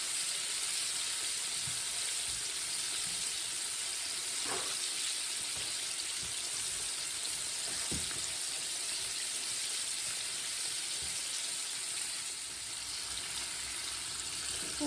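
Quiet, steady sizzling of ribs frying in oil, a continuous soft crackle with a couple of faint clicks, no voices.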